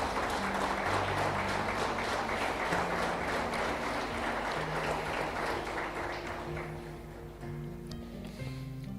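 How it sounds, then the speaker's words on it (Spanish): A church congregation applauding during a Sunday service, a broad sustained clapping wash that gradually thins and fades, with low organ or keyboard tones held underneath. "Dale un aplauso a Cristo"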